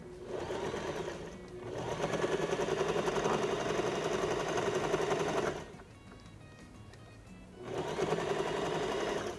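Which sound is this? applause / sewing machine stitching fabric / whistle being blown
sewing machine stitching fabric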